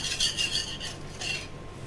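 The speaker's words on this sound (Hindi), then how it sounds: "इसको अच्छे से मिक्स कर लेंगे हम दही को और इस मसाले को" Yogurt being stirred with a ground spice mix in a pot for pakora kadhi, giving soft repeated scraping and rubbing strokes at close range, fairly quiet, with no talk.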